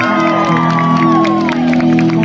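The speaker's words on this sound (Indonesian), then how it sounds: "Tepuk tangan sekali lagi." A concert crowd at a band show in Indonesia claps and cheers loudly while sustained music and held tones ring over the noise, with scattered whoops rising through.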